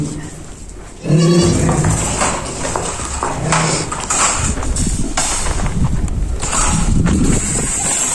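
Goats bleat in short bursts nearby in Petra, Jordan, amid a busy background of shuffling and hoof-like clatter.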